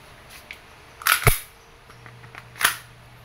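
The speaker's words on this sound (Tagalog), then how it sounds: "Okay, firing, Sir Vincent." An E&C airsoft Glock 17 Gen 5 gas pistol fires two sharp, close snapping shots about a second apart, followed by a third crack a moment later, with quiet handling noise in between.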